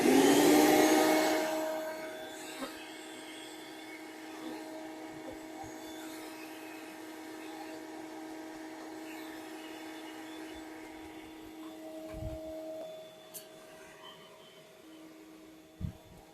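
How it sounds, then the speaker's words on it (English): A bee vacuum runs steadily during removal of a beehive from a rotting tree, a constant motor hum with a loud start and a few brief knocks and clicks, with no talk over it. "the vacuum's going to be running"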